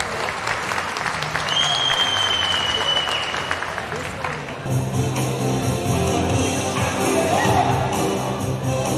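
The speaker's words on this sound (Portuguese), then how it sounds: "Pessoal, aplausos para a Nora do Rodrigues." Audience applause at a classic show event, a steady wash of clapping from a crowd that runs throughout, with a voice speaking over it partway.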